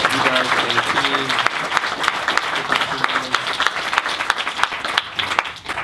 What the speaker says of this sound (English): Can we give a round of applause for David?